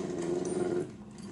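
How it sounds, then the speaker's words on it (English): A dog growls steadily in a low, continuous rumble from close by, the sound tapering off toward the end with no talk over it. "No, it's not a friendly dog."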